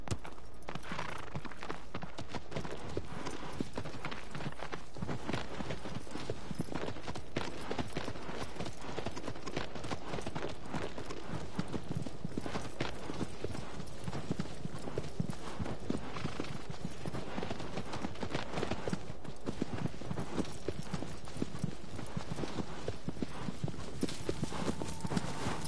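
Horse hooves clip-clop continuously in Shadow of the Colossus video game, steady walking rhythm, close and fairly loud, over a dense background of rustling noise.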